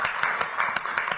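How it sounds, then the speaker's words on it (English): Audience applause at a city commission meeting, a moderate, fairly distant patter of many hands clapping with irregular sharper claps standing out. "So I really want to give them a round of applause"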